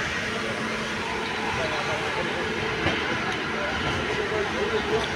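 A passenger train running on a route toward Tirupati, a steady loud rolling rumble with faint clickety-clack rhythm and occasional metallic knocks, heard from aboard the moving train, with a voice talking faintly under the noise.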